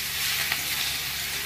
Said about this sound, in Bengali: এগুলো একটু নেড়ে একটু ভাজা ভাজা করে নিই।